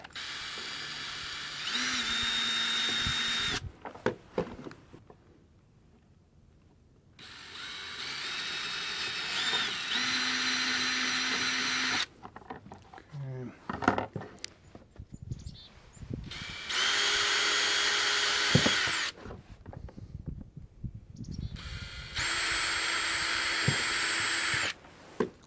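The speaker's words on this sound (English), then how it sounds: "I should probably use a smaller drill and then enlarge it." A power drill whines in several separate bursts, each a few seconds long, drilling holes during a Stihl chainsaw scrench modification, with short pauses and faint handling noises in between.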